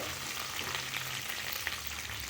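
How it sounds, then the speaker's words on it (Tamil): Green chilies and curry leaves sautéing in a hot pan give a steady, dense sizzle with faint stirring scrapes, close and continuous throughout, with no talking. "ரெண்டு பச்சை மிளகா சேர்த்துக்கிறேன் கருவேப்பிலை இது எல்லாத்தையும் கொஞ்சம் வதக்கிட்டு"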